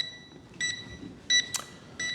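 Short electronic low-battery warning beeps from an FPV drone sound at regular intervals, three brief tones spaced apart, with a quick sharp click between them.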